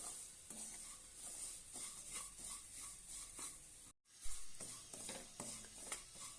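Semolina (rava) being dry-roasted in a pan for curd upma, a spoon scraping and stirring in repeated strokes over a soft continuous hiss, with one brief silent gap before the stirring resumes close by.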